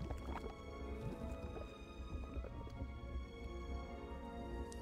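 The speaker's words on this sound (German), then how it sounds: "gießen das in die Form." In the video game Lost Lands: The Four Horsemen, liquid is poured into a mold, giving a faint, continuous trickling and dripping sound with soft gurgles over a quiet background.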